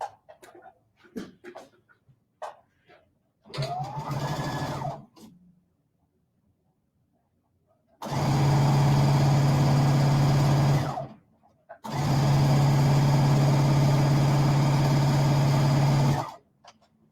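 A sewing machine stitches a quilt block seam in two loud, steady whirring runs of about three and four seconds, separated by a pause, after quieter handling noises.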